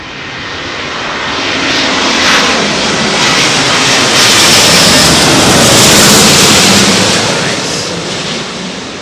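A single-aisle jet airliner arrives at London Heathrow Airport on a blustery evening, a loud, broad engine roar that swells to a peak and slowly eases off, close and overwhelming throughout.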